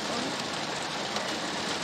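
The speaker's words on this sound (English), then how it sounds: "It's raining. It's literally raining." Steady rain falls in a dense, even hiss that holds at the same loudness throughout, with no talk over it.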